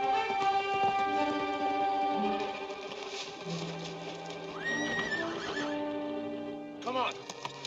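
Horses in a Western film neigh and whinny loudly with rising squeals, hooves clip-clopping beneath and a steady music score underneath, no voices standing out.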